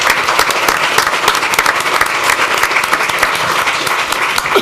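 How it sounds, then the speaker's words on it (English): Audience at a city council meeting gives a hearty round of applause, loud continuous clapping from many hands filling the room, steady and close. "Can we please give him a big round of applause?"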